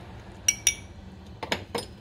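Utensil clinking against a container while stirring a cornflour and water mixture, a few light metallic taps in quick pairs, close and fairly quiet, with no talking.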